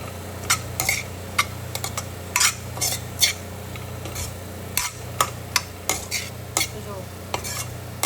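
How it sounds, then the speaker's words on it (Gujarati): Chopped coriander is stirred into a spicy Gujarati green bean curry, and a spoon gives repeated close scrapes and clinks against the pan over a steady low hum. "મસ્ત કોથમીર નાખી દીધી છે અને મિક્સ કરી દઈશું."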